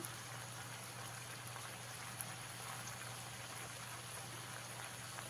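Raw pumpkin and mixed vegetables fry with green chillies, coriander, cumin and Kashmiri chilli powder in a pan, giving a steady, even crackling sizzle over a low hum with no talk.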